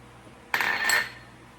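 Marinade ingredients for mushroom burgers clink and scrape into a bowl, one brief metallic clatter lasting about half a second, then quiet.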